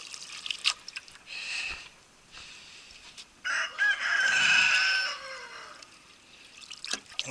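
A silkie rooster crows on an off-grid homestead, several rough, moderately distant calls rising over quiet outdoor background with some faint dripping.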